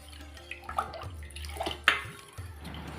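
Blue Diamond syrup stirred into water in a glass for a sherbet drink, with soft watery swishes, a few clinks and drips close by, and no talking.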